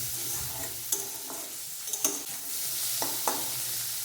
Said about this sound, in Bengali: তেলের মধ্যে দিয়ে দেব লবণ হলুদ মাখিয়ে নেওয়া মাছগুলো। মাছগুলো এবারে হালকা করে ভেজে নিতে হবে